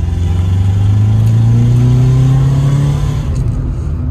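A Honda Civic EK coupe engine revs loudly and steadily, its pitch climbing gradually over a few seconds before easing off near the end.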